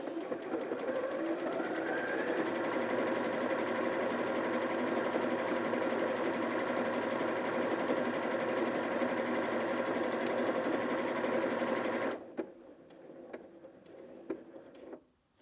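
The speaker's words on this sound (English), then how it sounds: "it finished a flower, did the securing stitches and then stopped" Janome Sewist 740DC sewing machine stitching a decorative flower pattern: a steady, fast mechanical whirr with rapid needle ticking runs loud and close for about twelve seconds, then stops abruptly, leaving faint clicks and handling noises.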